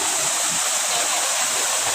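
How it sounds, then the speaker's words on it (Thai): A waterfall at a hillside temple in Thailand rushes steadily, a loud, unbroken broadband roar of falling water with no voices. "โอ้มีน้ำตก"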